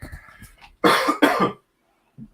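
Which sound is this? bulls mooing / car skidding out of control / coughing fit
coughing fit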